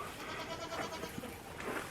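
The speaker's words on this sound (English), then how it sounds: "now's the time I start playing a game with my goats" Goats bleating in a farm setting, a few short, faint calls overlapping quietly across a couple of seconds with no talk.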